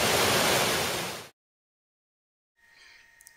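Water from the Loup River pours through canal intake gates, a loud steady rush of broadband noise that cuts off abruptly, followed by silence and then a fainter mechanical hum.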